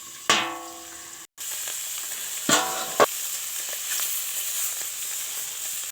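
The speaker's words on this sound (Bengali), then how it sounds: "তেল গরম হয়ে গেছে বন্ধুরা মাছগুলোকে দিয়ে দিতে হবে" Fish sizzling in hot oil in a wok while frying for a village-style curry, a loud steady crackling hiss with a sharp burst as pieces go in and a few spatters and clatters along the way.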